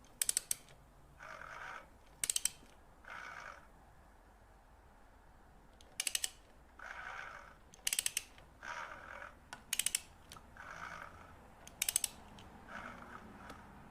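The Royal Enfield 650 engine is turned over slowly by hand for a valve adjustment, giving repeated clicks and ratcheting bursts with quiet gaps between them, up close and fairly faint.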